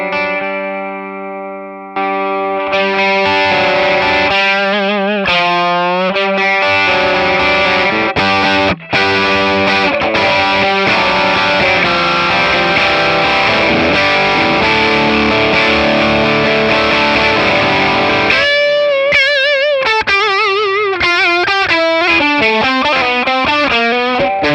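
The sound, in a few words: guitar through Kingsley Minstrel version 3 overdrive pedal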